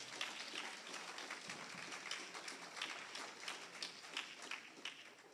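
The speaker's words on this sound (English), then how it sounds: "Let's give a round of applause." Audience applause at an economic empowerment seminar for a ministry of social services and urban development: steady, fairly faint clapping from a crowd, a continuous patter of many hands with no voices over it.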